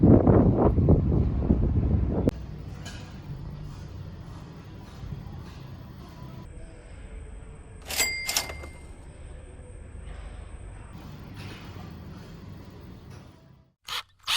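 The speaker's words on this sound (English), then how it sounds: "It's still pretty windy" Low wind rumbles against the microphone, gusting strongly at the start and then settling into a softer steady blowing, with a couple of brief clicks.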